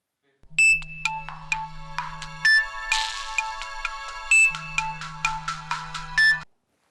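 A cell phone rings with a bright, tinkling synthetic melody of rapid chime notes over an intermittent low drone, close and clear for several seconds before stopping, with no voices.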